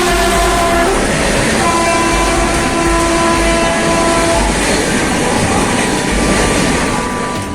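A train rumbles loudly through a station, its horn sounding in long sustained tones over the steady rolling clatter of wheels on rails.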